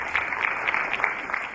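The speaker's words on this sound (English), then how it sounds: "Ladies and gentlemen, please join me in welcoming Dr." An audience at a lecture on management lessons from Mahatma Gandhi gives a round of applause welcoming Dr. Singh: a continuous, even patter of many hands, fairly loud and unbroken.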